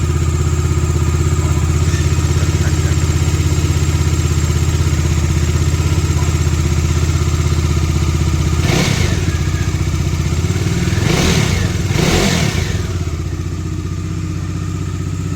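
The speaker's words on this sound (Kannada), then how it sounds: "ಕೇಳಿಸ್ತಾ ಇದೆಯಾ ನಿಮಗೆ ಇಂಜಿನ್ ನಾಯ್ಸು?" Idling Bajaj Dominar 250 motorcycle engine, nearly new, running steadily up close with a persistent mechanical noise, a few louder clattering thumps breaking through near the end.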